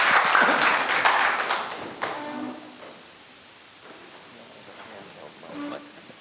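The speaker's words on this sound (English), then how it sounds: "Let's have a nice round of applause and some Hari Bols for His Holiness Brahmapad Swami" Crowd at ISKCON Chicago applauding and chanting Hari Bol for a visiting swami, a loud burst of clapping at the start that fades away, followed by scattered voices and tonal chanting from people in the room.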